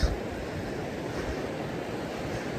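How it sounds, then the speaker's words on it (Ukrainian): The Prut river flows in sunny weather near a small footbridge, producing a continuous broadband rush of water mixed with wind buffeting the microphone, steady and fairly loud. "тут надзвичайно красиво тече річка Пруд"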